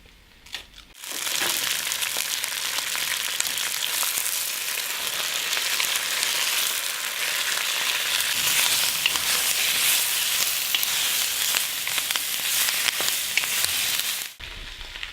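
Thin green beans, friggitelli peppers and a hot chili fry in a pan, a loud, dense, close sizzle with crackling that starts abruptly after a second of quiet and runs steadily before cutting off near the end.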